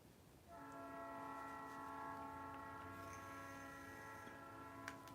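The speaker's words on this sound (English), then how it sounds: "Hear that train whistle?" A train whistle blows in one long, sustained blast with layered tones over distant rumbling, heard from afar and fairly faint.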